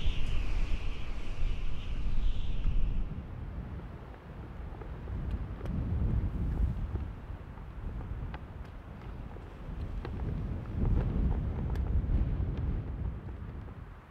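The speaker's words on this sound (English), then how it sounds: "I don't know if the wind's going to gust to 50 again." Strong wind gusts sweep across an open golf course, buffeting the microphone with a low, continuous roaring rumble that swells and eases in waves; no one speaks.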